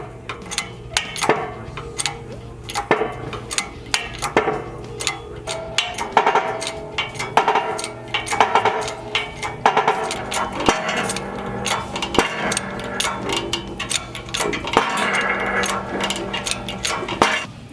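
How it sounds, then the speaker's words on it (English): A motorcycle axle is pressed back into its bearing and seal on a press, with a steady run of close metallic clicks, creaks and taps of varying loudness and no talk. "we begin pressing the axle back in."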